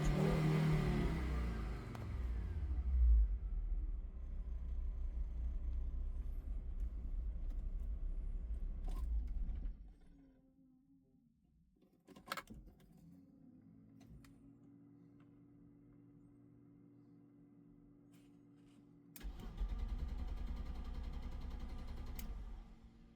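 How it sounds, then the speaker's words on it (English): A 2.3-litre Audi Cabriolet engine, suspected of flooding its cylinders, runs loudly at a rough idle, cuts out for several seconds with a faint mechanical clunk, then fires up and runs again. "Engine sounds good, but I think it's flooding the cylinders."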